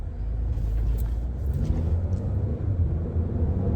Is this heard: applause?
no